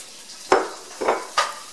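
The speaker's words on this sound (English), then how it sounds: "get some more butter, 2 tablespoons, and drop that in the pan." Butter, two tablespoons, hitting a hot pan while making lobster risotto, heard as three short bursts of sizzle and scraping, close and fairly faint, with no one talking.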